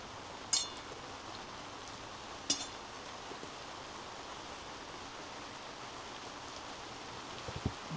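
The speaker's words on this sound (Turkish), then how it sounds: "Bu yağmur hiç durmayacak gibi yağıyor." Steady rain pattering on an inflatable tent at a campsite, a constant soft hiss with a few faint close taps and knocks, no talking.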